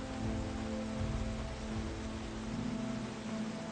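Steady rain falling in the game Project Zomboid, a constant hiss of rainfall with a low hum beneath it, with no talk.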